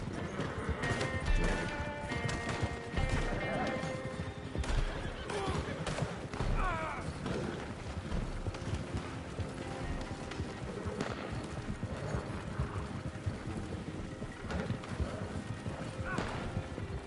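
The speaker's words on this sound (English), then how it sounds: "Where the fuck is the horse going?" A horse in the video game Red Dead Online clip-clops along at a brisk pace with a whinny partway through. The hoofbeats are close and continuous, mixed with game sounds and other noise.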